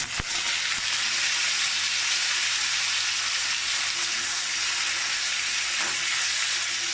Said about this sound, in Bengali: কেটে রাখা কুমড়ো আর আলু তেলের ওপর দিয়ে দেবো